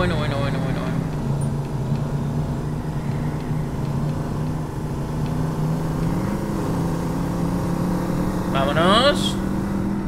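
A car engine in the Revhead racing video game drones steadily throughout, rising into a higher rev near the end, with someone talking over it.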